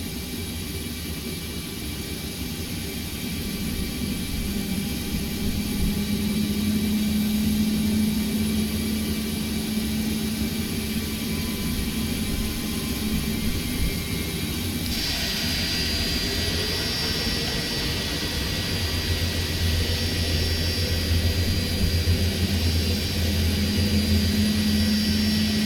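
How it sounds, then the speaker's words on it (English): An F/A-18E Super Hornet jet engine spools up during a ground-power start, a loud continuous roar with whining tones that step higher partway through as the engine gains speed. "We'll turn on our engine."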